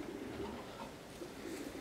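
A racing pigeon hen of Dutch origin coos softly in a breeder's loft, faint low murmuring calls repeating over quiet background.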